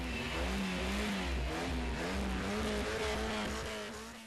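A customized car's exhaust roars loud and steady at a 2010 Freyming-Merlebach car meet decibel contest, engine held at high revs with a slight wavering pitch before easing off at the end.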